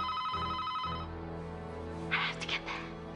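A telephone rings in an indoor domestic scene, its steady electronic ring tones running for about a second before fading under quieter background sound, with a brief brighter burst near the end.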